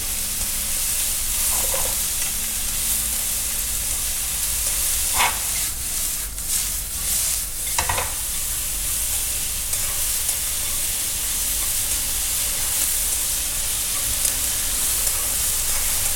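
Garlic and soy sauce sizzle steadily in a pan while browning for truffle mushroom ramen, a continuous close frying hiss with a few brief clinks and scrapes of stirring.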